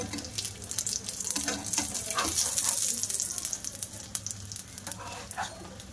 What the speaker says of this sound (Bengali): এবার আমি পরোটাগুলো সব ভাজা করে নেব।